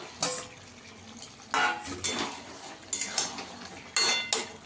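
Potatoes tumble into a pan with chicken for golmorich chicken, making several sharp clinks and clattering scrapes of metal utensils and cookware, a handful of distinct bursts over a quiet background.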